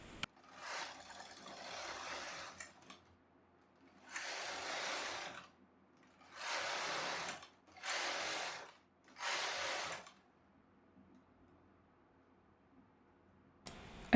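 A Brother knitting machine knits ribbing, its carriage sliding back and forth in five soft, rasping sweeps separated by brief pauses, quiet and close.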